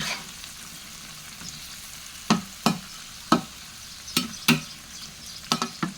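Mackerel being stir-roasted in a pan, with a steady low sizzle under a series of sharp scraping clatters from stirring at irregular intervals, close and moderately loud.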